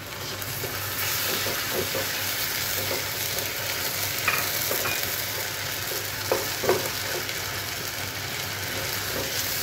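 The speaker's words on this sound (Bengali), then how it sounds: "আমগুলোকেও একটু কষিয়ে নেব এই মশলার সাথে" Raw mango pieces sautéed with spices in a pan for pickle: continuous close sizzling with a few clinks and scrapes of stirring scattered through, no one speaking.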